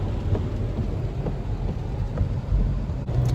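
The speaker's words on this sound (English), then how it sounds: "The rain seasons have come to Texas." Steady rain during a nighttime thunderstorm in Texas, heard as a continuous dense hiss with low rumbling underneath, fairly even in loudness throughout.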